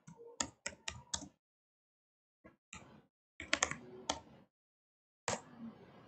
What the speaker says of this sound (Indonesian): Kita ketik namanya.